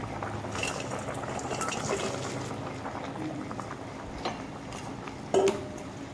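Vegetables boiling in water for a lentil fritter curry, a close, continuous bubbling and gurgling with a brief utensil clink near the end.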